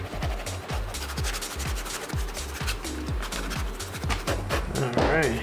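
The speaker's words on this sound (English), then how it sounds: "Now we're gonna take a suede eraser and erase everything." A suede eraser scrubs across a pair of suede sneakers during a restoration, producing a quick, regular series of close rubbing strokes that scrape back and forth at a steady rhythm.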